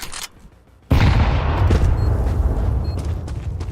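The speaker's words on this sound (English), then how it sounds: "Grenade!" A grenade explodes in a multiplayer shooter video game, a sudden loud boom that cuts in after a brief quiet and rumbles on with a dense, sustained roar.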